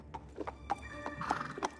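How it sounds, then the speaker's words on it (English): Horse on a quiet path in a gamebook adventure, hooves clip-clopping in a steady rhythm for under two seconds, soft and fairly close, with a brief whinny-like tone mixed in and no talk. "My horse became anxious."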